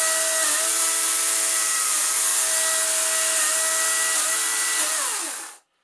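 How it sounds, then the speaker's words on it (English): An EGO 56-volt cordless electric chainsaw with a 14-inch bar cuts into landscape timber, giving a loud, steady high whine with shifting pitch as it bites the wood, then spinning down to silence near the end. "the chainsaw cuts through any kind of wood that a small gas chainsaw is going to do"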